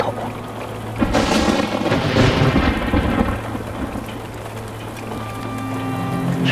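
Steady rain with rolling thunder builds to a loud peak and slowly fades, a continuous wash of falling water around a newly moved-into house, with no voices.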